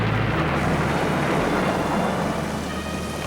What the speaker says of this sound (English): Bimble struggles through the storm towards Chateau Clackhanger.